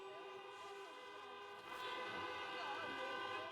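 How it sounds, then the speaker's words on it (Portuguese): Car horns blare together in a drawn-out chorus of sustained honking, a toll protest on the BR-101 Norte highway in Brazil, growing louder midway, with a voice underneath. "Os motoristas buzinavam como forma de protesto."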